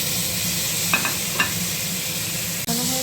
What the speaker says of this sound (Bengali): আলুটা দিয়ে ভালো করে ভেজে নেব